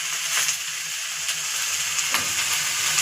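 Cauliflower pieces coated with turmeric and salt fry in hot oil with a steady close sizzle and hiss, faint stirring scrapes now and then, no talking.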